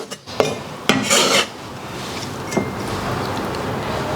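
A kitchen knife slices scallion, ginger and garlic on a board, giving a few sharp chopping knocks and a brief scraping rasp near the start, then a steady low background hum.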